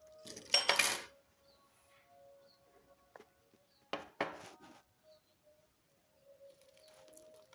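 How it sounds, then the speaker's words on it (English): A metal spoon clinks and taps against a bowl while stirring herbal ashwagandha tea, with two short bursts of clatter and a few quieter knocks between them, close and alone. "So I'm getting my spoon to stir it."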